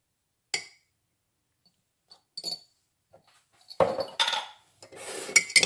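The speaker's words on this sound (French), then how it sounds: "Je mélange ma sauce." Salad dressing of lemon juice, pepper and salt being stirred in a bowl, giving scattered clinks and scrapes of utensil against dish, sparse at first then busier toward the end, close and fairly quiet.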